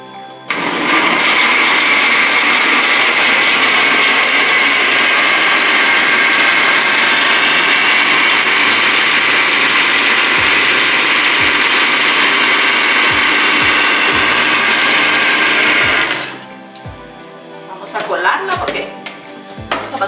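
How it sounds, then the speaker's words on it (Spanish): Blender liquefying cooked tomato salsa for Guatemalan chilaquiles, a loud steady whirring roar running continuously for about fifteen seconds before cutting off, followed by brief clatter and handling noise. "vamos a licuar nuestra salsa"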